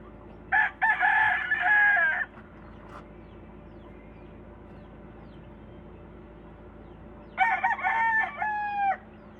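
A Sweater gamefowl rooster crows twice in a backyard, each long cock-a-doodle-doo ringing out clearly against quiet background noise, the second crow ending in a rising, wavering tail.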